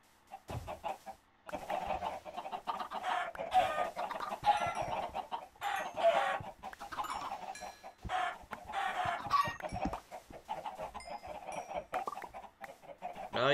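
A crowd of chickens in a Minecraft game clucks busily and without a break, with overlapping squawks and calls at a moderate level and no talk.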